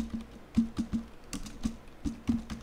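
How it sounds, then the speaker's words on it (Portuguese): Someone types a folder name on a computer keyboard, a quick run of a dozen or so close, crisp key clicks in an uneven rhythm, with no voice over it. "vou digitar aqui, né, nome da pasta Flutter Projects"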